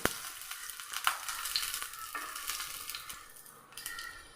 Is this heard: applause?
no